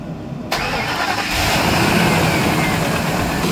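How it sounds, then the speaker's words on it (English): A Ford Super Duty truck engine cranks and catches, then settles into a steady, loud idle that runs on to the end with no talk over it. "Go ahead and start the truck."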